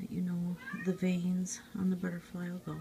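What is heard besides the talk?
cat meowing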